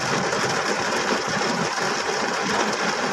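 Heavy rain pours down in Parañaque in the early morning, a dense, steady broadband hiss that stays loud and unbroken throughout, with no voices over it.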